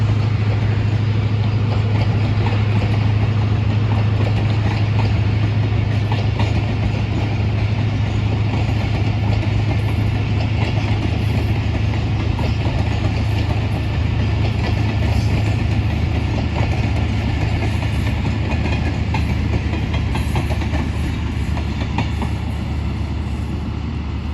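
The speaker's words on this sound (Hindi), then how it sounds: "तो ये थी आज की हमारी 47 अप रहमान बाबा एक्सप्रेस।" The 47 Up Rehman Baba Express train accelerating through a quiet station in Thatta District: a loud, steady, unbroken rumble of engine and rolling wagons with a strong low drone throughout.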